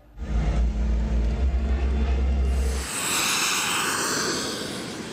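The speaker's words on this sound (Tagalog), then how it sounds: "Mamangha sa Global Stars Team Aerobatic Pyro Display na tila nagpagewang-gewang at nahuhulog sa himpapawid." Aerobatic airplanes from a team flying a pyro display at an air show: a heavy low engine rumble gives way to a broad roaring whoosh as an aircraft sweeps past, then fades gradually.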